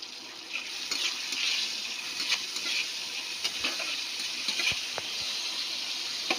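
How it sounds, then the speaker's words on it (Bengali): Tomatoes with a little salt frying in oil give a steady, close sizzle, punctuated by occasional stirring clicks and scrapes, with no voices. "টমেটো একদম ভালো করে ভাজা হয়ে গেছে"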